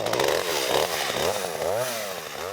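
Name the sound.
small chainsaw trimming wooden ladder rungs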